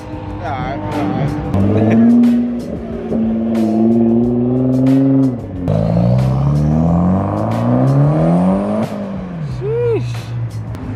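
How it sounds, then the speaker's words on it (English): A twin-turbo Lamborghini engine revs loudly, its pitch climbing and falling in long sweeps, with people talking over it. "This car sounds so sick."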